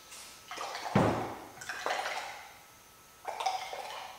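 Water poured from a container into a glass boiling tube holding a solid sample during a chemistry practical, heard as short splashing pours in separate bursts with brief gaps between, close by and moderately loud.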